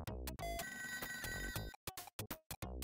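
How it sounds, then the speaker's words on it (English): Electronic telephone ringing in the video game ToeJam & Earl, heard as repeated tonal ring bursts over game music, loud and close, with several short separate rings toward the end. "Hear the phone again."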